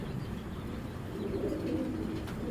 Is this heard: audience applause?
no